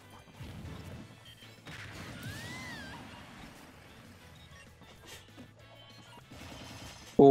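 Down smash attacks land in a Super Smash Bros tournament match, with a whooshing swing and sharp crashing hits over clattering game effects and background music, ending in a sudden loud burst.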